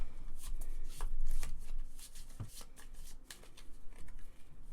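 Playing cards riffled and shuffled during a Pandemic Legacy Season 2 board game session, a run of quick crisp flutters and slaps close by, with no voices over them.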